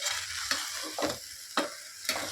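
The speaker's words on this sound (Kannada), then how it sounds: "ಕಾಣಿಸ್ತೀವಿ ಇದೆಲ್ಲ ನೀಟಾಗಿ ಫ್ರೈ ಆಗಬೇಕು." Vegetables for veg pulao fry in a pan with a soft, continuous sizzle, broken by four rhythmic scraping strokes of a spoon stirring through them; nearby and moderately quiet, with no voices.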